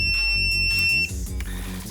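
A multimeter in continuity mode, used while recapping an Xbox, gives a steady high electronic beep for about a second that cuts off abruptly, followed by faint handling noise.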